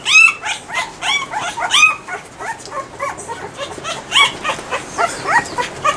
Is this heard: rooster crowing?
no